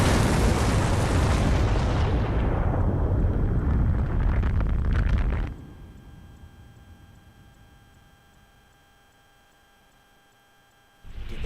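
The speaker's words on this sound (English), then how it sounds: "Did they survive the explosion?" A huge explosion in the video game Beyond: Two Souls roars loud for about five seconds, then cuts to a faint, quiet hum before a sudden burst of noise returns at the very end.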